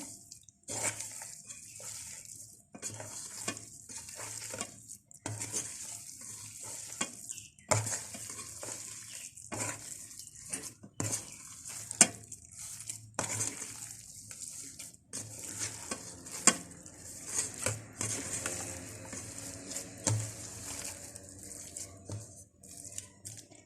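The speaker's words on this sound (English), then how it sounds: "I'm going to mix everything with my hand now" Cheese ball ingredients, including corn, are mixed by hand in a bowl, making quiet squishing and patting sounds in irregular bursts with short pauses. The sound is close and faint, and no one speaks.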